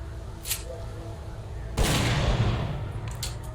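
Shotgun blasts in the game STALKER: Clear Sky, a faint shot early on followed by a loud, close burst of gunfire with rumbling decay, over steady background ambience.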